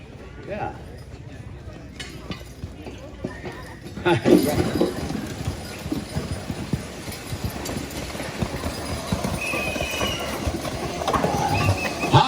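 Draft horses strain at a horse pull contest, with hooves thudding and chains clanking amid crowd noise that swells after a quiet start, an announcer talking over the action.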